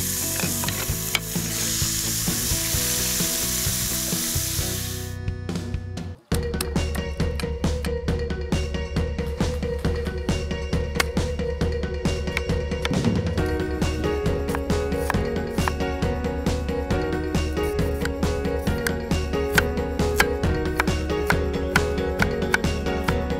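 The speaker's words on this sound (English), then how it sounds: "you can either drain some of the oil if you want, or just add in the bacon" Bacon sizzles and fries steadily in hot oil in a pan while cooking coq au vin, a loud continuous crackle after an initial hiss, with occasional stirring.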